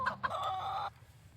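A half silky, half naked neck hen gives a repeated alarm call, a few sharp clucks rising into a sustained, loud, close squawk that cuts off abruptly.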